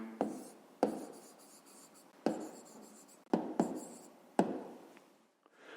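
Pen writing an answer on paper for a fifth-grade math exercise, a series of short scratchy strokes in quick bursts with pauses between, close and quiet, no speech.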